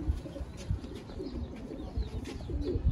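Sialkoti pigeons in a fancier's loft coo repeatedly in low, throaty pulses, several birds close together with overlapping calls and faint chirps and wing rustles behind them.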